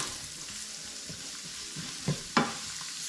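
Ground meat with taco seasoning frying in a pan for taco soup, a steady soft sizzle throughout with a couple of sharper clinks or stirring knocks near the end; no talking.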